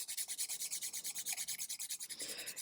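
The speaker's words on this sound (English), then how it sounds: "Not going in too deep here, not filing too much, but getting underneath and just beveling a little bit." Thin nail file rubbing under the edges of fingernails in quick, steady back-and-forth strokes, close and fairly faint, about ten strokes per second with no talking.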